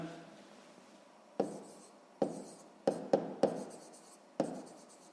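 Pen strokes on paper during a sixth-grade math exercise, a steady soft scratching with several sharper taps as marks are made, close and quiet with no talking.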